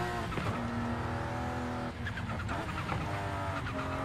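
A tuned car accelerates hard in second gear on an uphill run, its engine note loud and steady with gear-driven rising pitch and a brief dip midway, close and continuous without voices.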